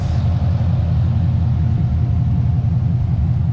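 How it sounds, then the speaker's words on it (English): A Nissan 350Z with a swapped LS V8 idles after about ten minutes of warming up, making a loud, steady, close low rumble that holds even throughout with no voices. "Been letting it sit at idle probably about 10 minutes."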